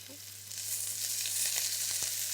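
Sliced onion sizzles steadily in very hot chicken fat and oil, a bright continuous crackle that swells slightly after the first half second, with a few soft stirring knocks.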